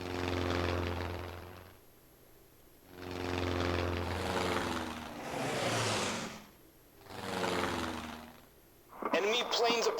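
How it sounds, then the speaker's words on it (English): Propeller planes approaching in an air-war video game, engine drone rising and falling in several swells roughly two seconds apart, ending with a brief burst of other game sounds, with a voice speaking at times. "Enemy planes approaching"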